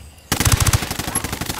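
Rapid machine-gun fire in the video game Ghost War, a loud close sustained burst of evenly spaced shots that starts abruptly after a brief quiet moment.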